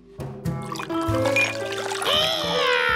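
Water pours and trickles with light splashing in a Curious George children's cartoon, a continuous gurgling stream that grows brighter and fuller toward the end.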